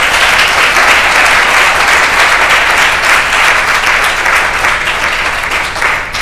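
A church congregation applauding the Lord during a service, loud sustained clapping from a large crowd filling the room throughout.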